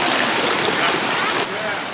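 A river flows in a steady, broad rush of water close by, loud and continuous, with people talking faintly over it.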